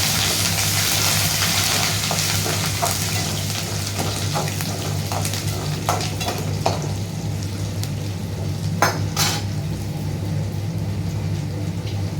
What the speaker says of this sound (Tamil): கருவேப்பிள்ளை, வெள்ளைப்பூண்டு, பூண்டு போட்டு நல்லா வதக்கிக்கலாம்